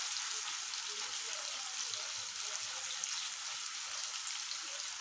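Beef koftas fry and get stirred in a pan, giving a steady, even oil sizzle throughout with a soft hiss and no pauses.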